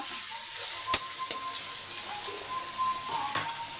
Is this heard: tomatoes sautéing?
yes